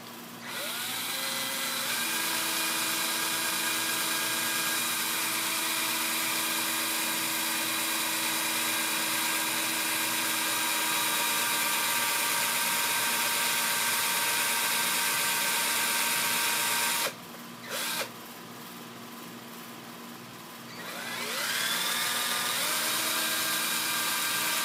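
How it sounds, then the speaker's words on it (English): A power drill bores through a thick extra-large art journal, running in a long continuous whine with a brief stop near the end before revving again, close and loud. "so just drill all the way through."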